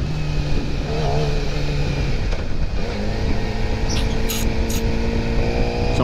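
A motorcycle engine drones steadily while riding, with continuous road and wind noise and a shift in engine pitch partway through, loud and close throughout.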